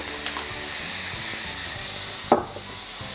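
Onions sizzling in a pan while frying for a mutton curry, a steady close hiss with a brief sharp crackle near the end.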